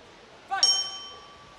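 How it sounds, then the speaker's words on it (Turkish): A boxing ring gong rings once to open the first round of a professional fight, a bright metallic strike that hangs with a long, steady ringing decay over faint arena background. "Ve gongla birlikte birinci round başladı."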